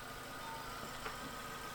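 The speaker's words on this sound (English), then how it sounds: "No, it's the engine that's running." A faint, steady car engine idles with a low continuous rumble and no breaks, outside an old hospital nurses' home.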